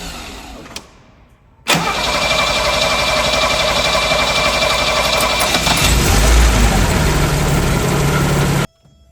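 Mercedes 280 C undergoing restoration cranks briefly, then fires and settles into a loud, steady idle close by for several seconds before cutting off abruptly.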